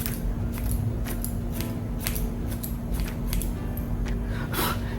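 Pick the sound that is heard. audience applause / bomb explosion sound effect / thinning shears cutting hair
thinning shears cutting hair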